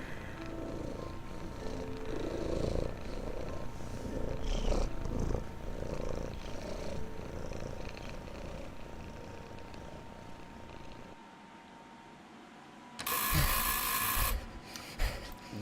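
Cats in the video game Pieces of Me purr in a soft, continuous, rumbling drone that goes on for a long stretch, with faint rustling and a brief bright burst near the end.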